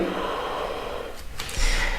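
A single audible breath during a yoga stretch in preparation for the splits, a sharp nasal inhale followed by a breathy release, close and quiet.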